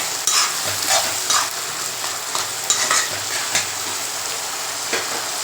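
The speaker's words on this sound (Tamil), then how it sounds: "அதையும் போட்டு நல்லா வதக்கலாம்" Eggplant sizzles steadily in a hot pan with repeated scraping and stirring strokes, a close, continuous frying hiss throughout.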